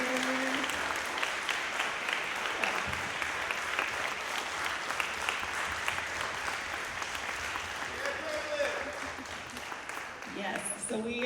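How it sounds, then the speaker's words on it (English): A school audience gives steady, continuous applause for eighth graders in a middle school jazz band, a dense clapping roar lasting throughout with a few voices faintly audible within it. "please stand and give them a round of applause"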